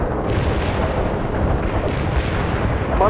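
An artillery strike in World in Conflict lands as a dense, rolling barrage of booms and rumbling blasts, continuous and heavy across the whole stretch with no voices over it.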